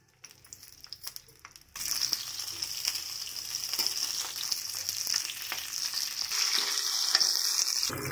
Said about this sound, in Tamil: கட் பண்ணி வச்ச கோவக்காய் எண்ணெயில் வதக்கிக்கிறலாம்